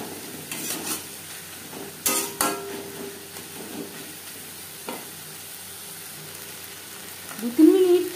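Onions with turmeric, salt and spices being stirred as they fry in a pan: sparse scrapes and knocks over a quiet sizzle, ending in a louder burst of stirring, nearby and without talk.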